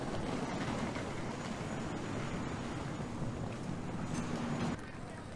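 A Walt Disney World monorail train wrapped in 50th anniversary graphics rumbles steadily nearby, a continuous low rolling drone that drops slightly in level near the end.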